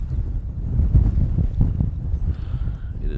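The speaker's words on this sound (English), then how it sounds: "it is quite breezy out here" Breezy wind outdoors at an airport in Hawaii, gusty microphone buffeting and low rushing that swells and fades over a few seconds, close and fairly loud.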